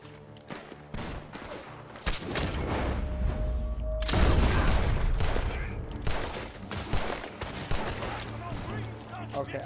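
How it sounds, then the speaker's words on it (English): Gunfire from a barn in the video game Red Dead Redemption 2 rings out as rapid, sharp shots in bursts over about ten seconds, loud and dense, mixed with game ambience. "Gunshots are coming from that barn."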